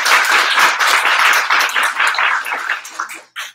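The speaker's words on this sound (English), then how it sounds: "I do want to give a round of applause to Stephen and the rest of our team here who" An audience at a river policy event claps in a loud, dense burst that thins out into a few scattered claps before a final single clap near the end.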